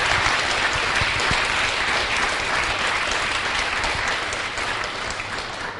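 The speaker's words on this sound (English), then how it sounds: "a massive round of applause for Scott" An audience at an inspirational talk event claps in dense, sustained applause, steady and full throughout before thinning slightly at the end.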